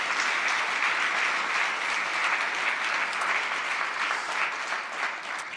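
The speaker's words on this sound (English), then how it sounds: "give him a round of applause." Conference audience at a live hacking demonstration bursts into loud, dense applause, a steady wash of many hands clapping close by that holds for several seconds with no talk over it.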